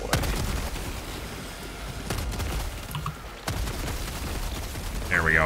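Automatic turret fire in Helldivers 2 rattles in dense, continuous bursts through a busy battle mix, sharp cracks standing out near the middle and end, loud and close.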